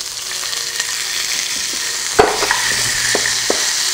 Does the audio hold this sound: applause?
no